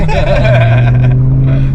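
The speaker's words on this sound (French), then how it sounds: "alors là on est sur le bruit du moteur" BMW M5 E60 engine droning steadily while driving, a loud low hum with a rising whine inside the cabin, with talk over it.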